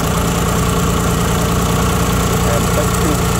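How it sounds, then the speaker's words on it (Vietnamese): A 2008 Chevrolet Spark with a manual gearbox and 0.8-litre engine idles close up, giving a loud, steady, even hum throughout with no break. "Máy nổ khá là êm và đều tiếng."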